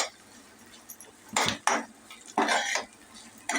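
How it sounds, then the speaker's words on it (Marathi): Chopped potato being sautéed in a pan for dal khichdi, heard as scraping and clattering of a spoon against the pan in irregular bursts over a low background hiss, close by. "आता हे आपण परतून घेऊया"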